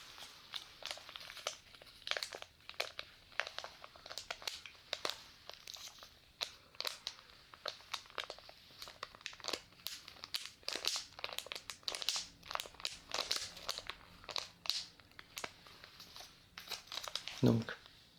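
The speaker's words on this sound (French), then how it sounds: "c'est en effet du papier. Donc, juste quelques petits reçus." Small paper receipts are crumpled and crinkled close up in a quiet, binaural ASMR setting, making continuous soft crackling with irregular louder crunches.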